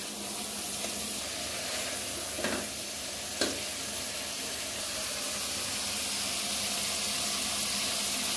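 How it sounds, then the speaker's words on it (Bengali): Steady sizzling and stirring of beef curry with raw papaya in an oily pot, with two short splashy bursts as water goes in, close and continuous, no talking. "এখন আমরা পানি দিয়ে দেব।"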